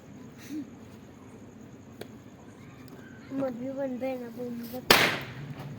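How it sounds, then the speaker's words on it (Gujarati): A single firecracker bomb goes off with one sharp, loud bang near the end, preceded by chatter and a whistling tone. "રુદુભાઈનો બોમ્બ અહીંયા જગે છે ઊંધા માથે"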